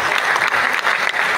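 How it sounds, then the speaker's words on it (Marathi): Loud, close, continuous applause from an audience at a state-level award ceremony in Solapur, with dense rapid clapping filling the whole moment. "मला वाटतं जरा जोरदार टाळ्या होऊन जाऊ दे"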